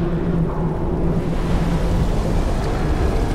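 Steady rushing water flowing through a sewer collector after a valve is turned in Amnesia: The Dark Descent, a continuous broadband wash with a low hum, loud and unbroken throughout.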